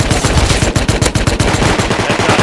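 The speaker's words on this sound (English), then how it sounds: "we hear some shots in the distance" Rapid automatic gunfire in the survival video game Rust, a dense stream of shots fired in quick succession throughout, loud and continuous, with no talking.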